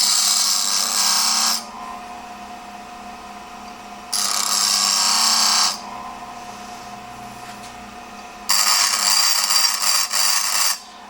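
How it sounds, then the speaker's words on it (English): Steel being ground on a coarse 36-grit grinding wheel: three loud, harsh grinding bursts of about one to two seconds each, separated by the quieter hum of the spinning wheel, close up with no talk. "I'm grinding them on a 36 grit wheel"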